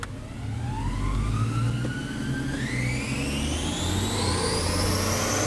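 A Ferrari engine fitted with Ford parts revs on a dyno, its pitch sweeping steadily upward and climbing faster partway through, loud and close with a rough low rumble underneath and no voices.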